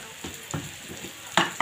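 Turmeric and cumin sizzle in hot oil for cooking taro greens, a soft close frying hiss broken by a few quick stirring clinks and scrapes against the pan.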